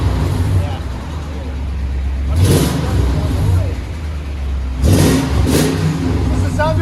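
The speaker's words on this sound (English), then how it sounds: "Toyota Tundra 2000. We'll let you guys hear it in a second." A 2000 Toyota Tundra with a 4.7L V8 and a Magnaflow dual exhaust idles with a low, mellow rumble and gives two or three short revs, with people talking over it.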